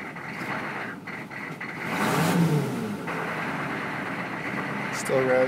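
A rough-running 1996 GMC 2500HD pickup with a 6.5L turbo diesel revs up and settles, the engine rising and holding under someone talking nearby.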